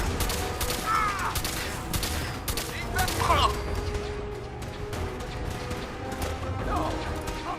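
Dense, continuous gunfire from the video game Fallout 4, with rapid bursts and crashing impacts layered over a busy battle ambience, loud and sustained throughout with occasional shouted voices in the mix.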